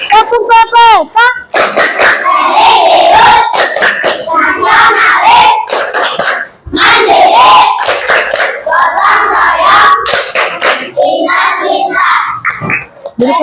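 Schoolchildren perform the Tepuk Pepe clapping chant in a classroom, sharp rhythmic hand claps mixed with loud, close group chanting and shouted voices that pause briefly before resuming.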